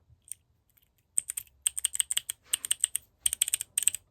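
A single mechanical keyboard switch topped with a keycap is pressed over and over, giving crisp, clacky clicks in quick irregular bursts, close up in a quiet room with no talk.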